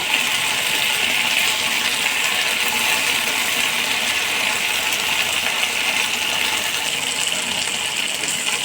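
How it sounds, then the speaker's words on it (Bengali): Okra tipped into hot oil and frying, a loud, dense, unbroken sizzle with a bubbling crackle that stays constant throughout, no voices present. "তেলটা গরম হয়ে গেলে এখন আমি ঢেঁড়সগুলো ঢেলে দিব ঢেলে দিয়ে ভেজে নিব"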